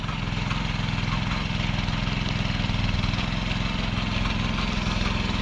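A tractor engine ploughing a field, a steady rhythmic chugging drone at constant load that stays loud and close throughout with no break, no talk.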